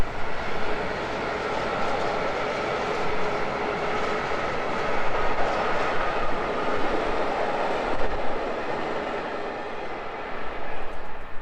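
A train crosses a railway bridge on the South Wales line between Gloucester and Cardiff, a steady broad rumble with rail clatter that holds for the whole stretch, fairly loud and unbroken, with no voices.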